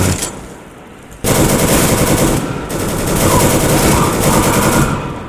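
Automatic gunfire in the shooter game CS:GO rattles out in loud, continuous bursts after a brief quieter opening, with one short break before the firing resumes.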